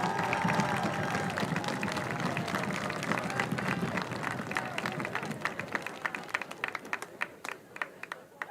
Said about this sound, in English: Could you please give another round of applause to all our second-year marchers?